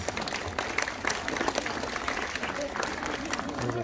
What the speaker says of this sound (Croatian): Evo, dajte vam veliki aplauz za našu mamu Car